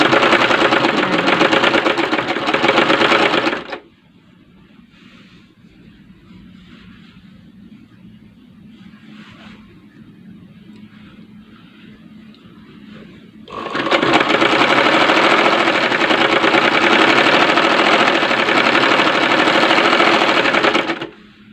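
An electric sewing machine stitches a maxi dress neckline in loud steady runs of rapid needle chatter, a burst of a few seconds, a long quieter pause with faint handling noise, then another sustained run.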